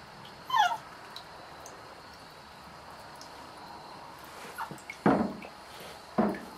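A young female puppy on a tile floor lets out faint, high whines and yips, one at the start and a short cluster near the end, with quiet room sound in between.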